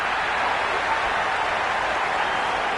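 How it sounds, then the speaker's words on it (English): Crowd in a cricket video game roars and cheers continuously, a dense, steady wash of stadium noise heard alone for a few seconds. "The crowd are really getting quite raucous."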